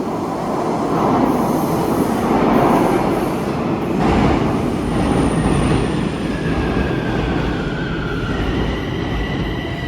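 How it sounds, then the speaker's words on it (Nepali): A metro train rumbles into Policlinica metro station steadily with rising wheel squeal and rail clatter, loud and close, with no voices. "उनीहरूतिर जाने मेट्रो आयो"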